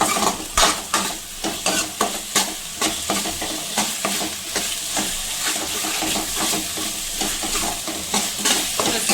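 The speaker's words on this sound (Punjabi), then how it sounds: "ਹੁਣ ਮਸਾਲੇ ਦੇ ਵਿੱਚ ਚੰਗੀ ਤਰ੍ਹਾਂ ਭੁੰਨਾਂਗੇ ਆਲੂ ਨੂੰ" Potato pieces roasting in spices in a pan for an aloo soyabean curry with yogurt, sizzling steadily under a rhythmic series of scraping stirs from a spoon, close and fairly loud, no voices.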